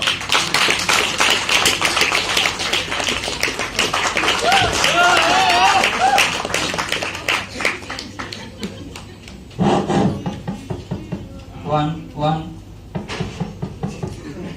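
An audience applauding at a company's fifth-anniversary celebration with skits: steady, dense clapping for several seconds, then a few scattered claps while a voice speaks over them.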